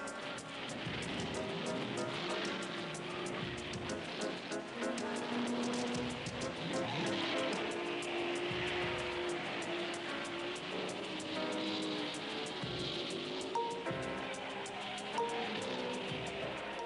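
1930s Auto Union and Alfa Romeo Grand Prix race cars roar past in a head-to-head battle, a faint, old-sounding engine drone rising and falling steadily with no talking.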